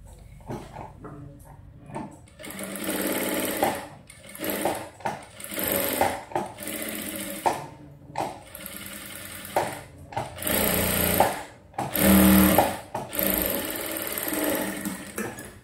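A sewing machine stitches a princess cut blouse in short bursts, each run a whirring rattle lasting one or two seconds, separated by brief pauses across the clip.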